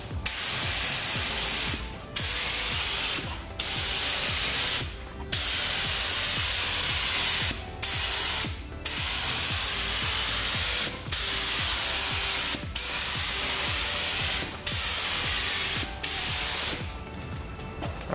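A spray gun lays a second coat of paint on a cracked car bumper under repair, firing about nine steady hissing bursts, each a second or two long, with brief silent breaks between them.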